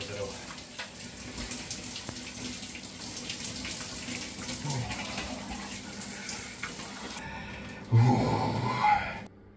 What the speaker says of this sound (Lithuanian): Visiškai šaltas vanduo.